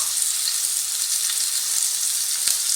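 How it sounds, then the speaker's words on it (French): Minced meat rolls frying in oil on a griddle, a steady, close crackling sizzle with faint pops and no voices. "Sur une plaque où j'ai mis de l'huile, alors je vais frire mes boudins de viande hachée."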